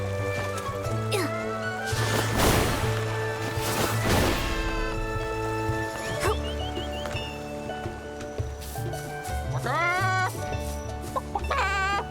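An old man character in the video game Infinity Nikki clucks like a chicken, a run of close, loud clucks repeating over steady game music, with a few higher squawks near the end.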